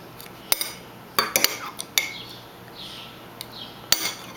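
A metal spoon clinks and taps against a coffee cup at a breakfast table in a series of sharp, uneven strikes, close and fairly loud, with brief pauses between bursts.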